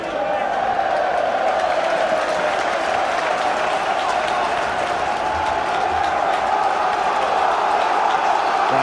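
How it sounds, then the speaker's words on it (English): Football crowd at Turf Moor during Burnley v Preston North End, a loud, continuous roar of cheering and applause from a packed stadium, sustained and unbroken throughout. "Frank Sinclair just geeing up the Turf Moor crowd as if they need it."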